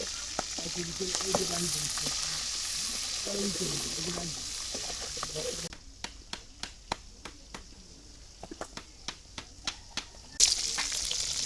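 Shrimp dropped into hot oil in a village kitchen, a loud steady frying hiss that cuts off partway through, leaving quieter sizzling broken by sharp pops and crackles.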